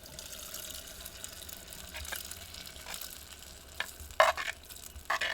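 Boiled mung beans tipped into a pan with sweet corn and stirred, a low steady sizzle with scraping and a few sharp clinks of a spoon against the pan toward the end.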